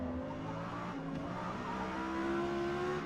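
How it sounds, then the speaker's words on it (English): Lexus LFA in the Forza Motorsport racing game at Silverstone, its engine note steady and droning with a rising tone as it powers out of a corner, with the throttle flutter not clearly distinguishable. "A lot of throttle flutter."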